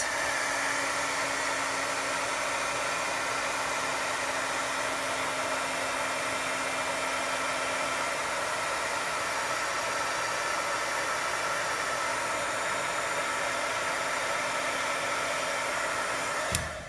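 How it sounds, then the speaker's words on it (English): A craft heat tool blows steadily on Nuvo Aqua Flow ink, a continuous loud, even whoosh of hot air with a faint low hum, running unbroken before cutting off abruptly at the end. "Let's just hit it with the heat tool and move that color around a little bit."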